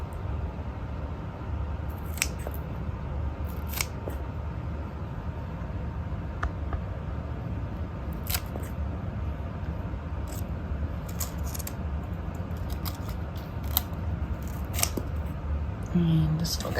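Kitchen scissors snip store-bought scallions, several sharp isolated cuts spaced irregularly against a quiet room hum, with a person talking between snips.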